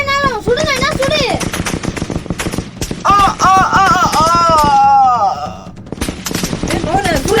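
Rapid bursts of automatic gunfire as people shoot, loud and near, under and between excited shouting voices.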